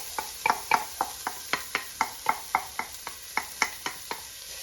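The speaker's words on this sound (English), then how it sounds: "And then I'm going to add the onion." Diced onions go into a pan with very little oil and get stirred, giving a steady series of about sixteen sharp scraping knocks of spoon on pan over a faint sizzle, close and clear.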